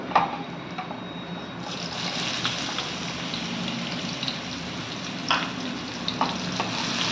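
Finely chopped onion sautés in a pan with ginger and garlic for a dal khichdi tadka, a steady, close, even sizzle with light stirring scrapes and no voices.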